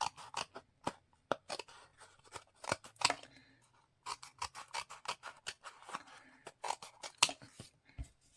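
Scissors snip through scrap chipboard in a series of sharp, crisp cuts at an uneven pace with short pauses between them, close up and with no talking.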